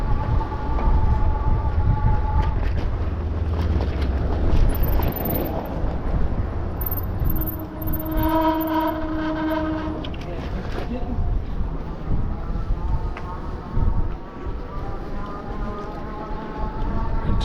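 Train rumbling through Oceanside Transit Center, with a horn blast sounding clearly in the middle. Someone speaks over the low, continuous rail noise at times.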